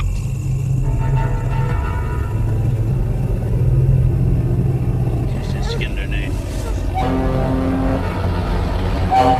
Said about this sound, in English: the trucks, these monstrous rattling trucks that come down the road